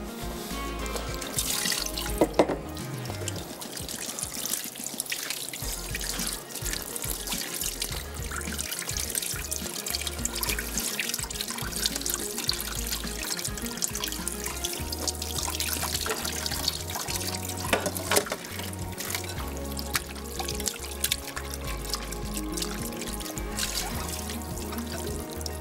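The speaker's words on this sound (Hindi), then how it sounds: "अब हम एक दफ़ा इसको फिर वॉश कर लेंगे ताकि जितनी भी नमक है इनकी वो निकल जाए।" Prawns being washed by hand in a sink or bowl of water after soaking in salted water, a steady run of splashing, trickling and pouring water that stays close and continuous throughout, with no talking.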